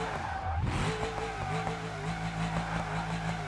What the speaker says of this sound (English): let's try to do a drift with this vehicle